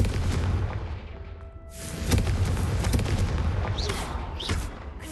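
The Confringo fire spell from the Hogwarts Legacy video game sets off a loud explosive boom partway through, heard over a continuous dense rumble, with a few softer whooshing bursts following.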